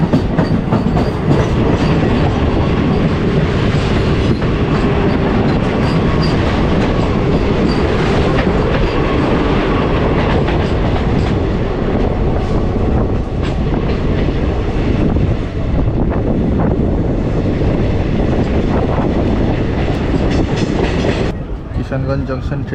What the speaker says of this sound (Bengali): কিষানগঞ্জ জংশন ট্রেন এখন ছেড়ে দিল।